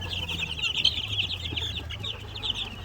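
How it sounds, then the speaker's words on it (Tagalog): Chickens cluck low and close in a breeding pen while many chicks peep continuously in a high, busy chorus. "Dito naman sa kabila, ito yung pang apat na batch ng mga sisiw."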